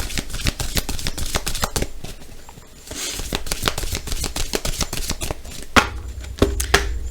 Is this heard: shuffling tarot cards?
yes